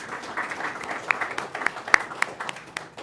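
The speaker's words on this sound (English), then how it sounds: "So everybody can clap for him." Audience at a school governing board meeting clapping for an honoree, a modest scattered round of applause with a few close, sharp claps over the softer crowd.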